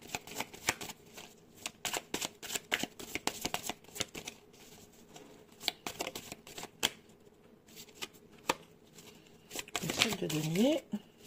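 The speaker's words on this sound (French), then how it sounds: "on va prendre 3 cartes du tarot" Tarot cards are shuffled by hand in quick, close riffling bursts. A soft voice speaks briefly near the end.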